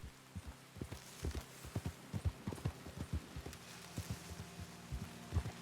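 Horse hooves clip-clop in the RedM Red Dead roleplay game, a steady close rhythm of soft thuds on the ground over a low background hum, fairly quiet and without speech.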